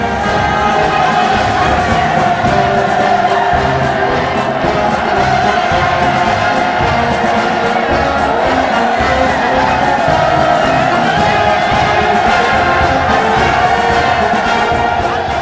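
A huge crowd roars and cheers at a Pyongyang mass rally and demonstration, a dense, loud, sustained wall of voices across the whole stretch.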